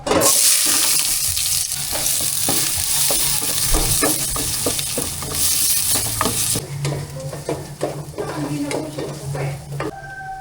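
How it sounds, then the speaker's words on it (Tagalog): Garlic and onion sautéing in a pan with a loud, steady sizzle, broken by repeated scraping and clinking as a utensil stirs them. "Igigisa po muna natin."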